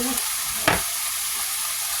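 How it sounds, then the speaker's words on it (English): Meat frying on low heat in a pan for spaghetti, a steady close hiss of sizzling with one brief stir or scrape, and no talk. "I'm gonna put the meat on low"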